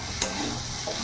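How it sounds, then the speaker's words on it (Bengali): Potatoes and green peas for ghugni sauté in a pan over a medium flame, giving a steady, even sizzle with a single brief scrape of stirring, with no voice over it. "এখন কম করে 5 থেকে 10 মিনিট আমি মিডিয়াম আঁচে ভালো করে এটা কষিয়ে নেব।"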